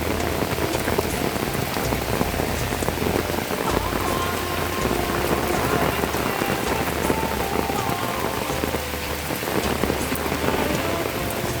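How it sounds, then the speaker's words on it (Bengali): Heavy rain pours down in a dense, continuous hiss of drops striking surfaces, loud and close throughout, with no one talking. "প্রচুর পরিমাণে বৃষ্টি।"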